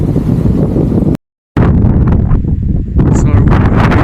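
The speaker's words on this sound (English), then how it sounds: "Very windy, so it's proving quite difficult to find a flat pitch" Strong gusts from Storm Betty buffet the microphone high on an exposed mountain pass, a loud continuous roar that cuts out briefly and returns with rough, fluttering bursts.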